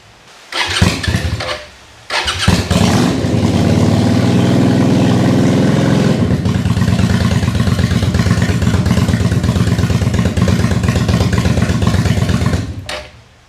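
Suzuki VL250 bobber motorcycle fitted with new NGK CR7E spark plugs cranks briefly, then fires up on the second attempt and settles into a loud, close, steady idle before shutting off.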